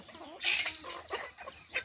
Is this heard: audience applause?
no